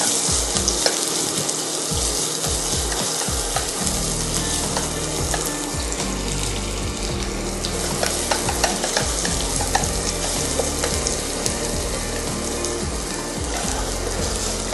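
Ginger slices frying in a pan over medium heat for scallion ginger chicken: a dense, continuous close sizzle with frequent scraping stir strokes and crackles, loud and steady, no voices.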